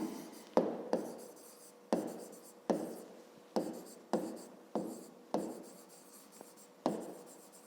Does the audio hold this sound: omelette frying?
no